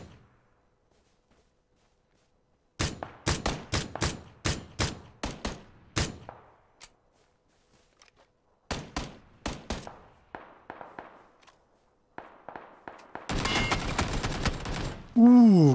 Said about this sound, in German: Krank wird angeschossen von oben.